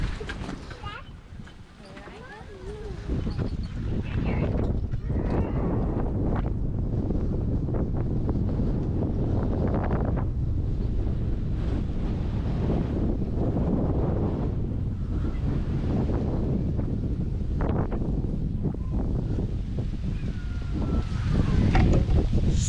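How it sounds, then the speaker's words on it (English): Strong gusty wind roars across a microphone at a coastal free campsite beside a caravan, a constant loud buffeting rush with surf-like noise underneath, while people talk over it. "Still very windy though."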